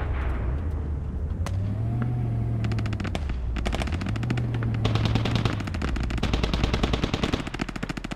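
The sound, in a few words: gunfire in the video game Squad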